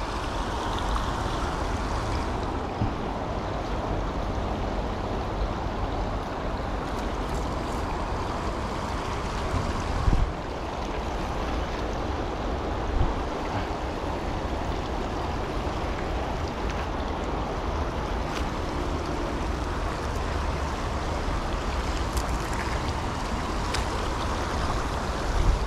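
A strong stream current rushing over rocks, a dense, continuous broadband roar of water that stays steady throughout, close and loud with no voices.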